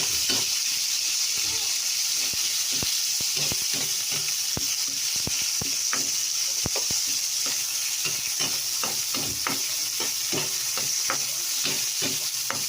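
Onion sautéing in a pan for a pork dish, a loud continuous sizzle broken by frequent sharp clicks and scrapes of stirring, close by.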